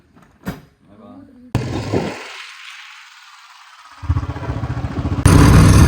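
A motorcycle starts off and is ridden, its engine droning and then growing into a loud, steady rumble with wind noise, after brief faint sounds at the start.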